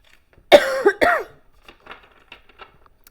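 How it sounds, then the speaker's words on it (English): A person gives two sharp, close coughs with a slight rasp, followed by a few faint throat noises in an otherwise quiet room. "I'm going to have this horrible little niggly cough"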